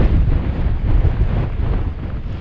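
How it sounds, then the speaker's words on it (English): Strong, cold wind buffets the microphone on an exposed mountain hiking trail in Snowdonia, Wales, a loud continuous low roar and rumble with no voices. "Wind's cold."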